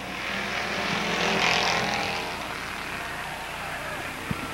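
Race cars at Avilla Motor Speedway roar past in a 1995 season-opening race, a loud continuous engine wash that swells and fades as the pack goes by, with a brief thump near the end.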